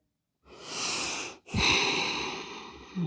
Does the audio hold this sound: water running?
no